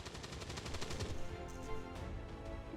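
Rapid bursts of gunfire from a turn-based tactics video game, XCOM 2, including pistol and shotgun shots, with a quick run of cracks in the first second followed by sparser shots, loud and close with no talk.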